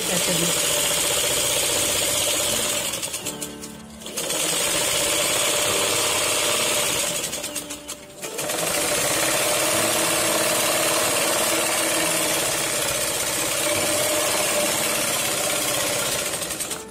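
Electric sewing machine stitching the back piece of a garment, a steady loud motor whir running throughout with two brief pauses, no talking over it.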